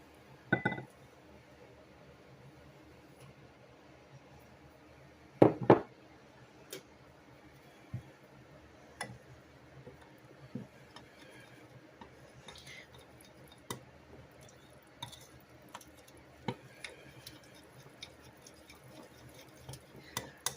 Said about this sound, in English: Oftentimes we'll stir this to begin with a fork, just to make sure I get all that cornmeal mixed in